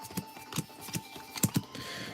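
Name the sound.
shuffling Pokemon trading cards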